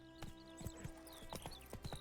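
Hooves of the horse Roach in The Witcher 3 video game: several soft clip-clop hoofbeats at a walking pace, faint and somewhat uneven, with game ambience behind and no talk.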